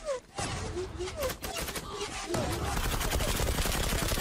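Rapid automatic gunfire in the online shooter Zula, dense crackling bursts rattling on steadily under someone speaking, with faint whistling tones early on.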